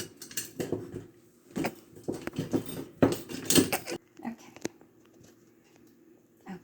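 Metal kitchen utensils rattle and clink as a spatula is dug out of a drawer or crock while making a Texas chocolate sheet cake: irregular close clattering bursts separated by short pauses.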